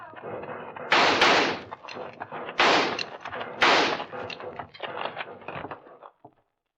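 Gunfire volleys in an old-time radio western, several loud sharp reports with echoing tails over a rough, noisy background, near and forceful, fading out at the end.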